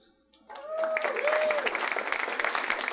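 A comedy club audience breaks into applause after a quiet moment, quickly swelling into steady, dense clapping mixed with a few cheers and voices.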